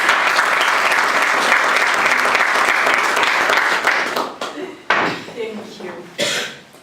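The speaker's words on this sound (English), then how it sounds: "I would like to ask you to give yourselves a round of applause for being here." A Toastmasters club audience gives a full round of applause that holds steady for several seconds, then thins out into scattered claps, a cough and rustling as the room settles.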